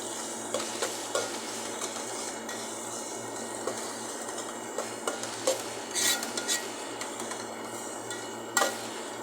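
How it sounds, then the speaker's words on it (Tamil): Turmeric and chili powder being stirred into frying onions in a pan for a chickpea curry: a steady sizzle under repeated scraping and clinking of a spoon against metal, close and continuous, with no talk. "மஞ்சப்பொடி மிளகாத்தூள் ரெண்டையும் போட்டுக்கலாம் போட்டு கொஞ்சம் கிண்டி விடலாம்"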